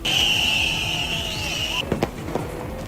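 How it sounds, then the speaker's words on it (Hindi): Firecrackers go off during a street protest in London, with a loud steady alarm-like whine followed by a few sharp cracks and pops over a busy background. "इस दौरान प्रदर्शनकारियों ने पुलिस पर जलते हुए पटाखे फेंके और आगजनी भी की।"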